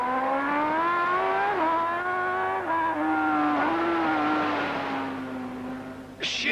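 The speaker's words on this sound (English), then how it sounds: "Sheer front brake almost put the camera out of action as Leach dived through" A racing motorcycle at the 1991 Macau Grand Prix screams past close by with a high, wavering engine note that dips as the rider brakes hard, then a sharp burst near the end.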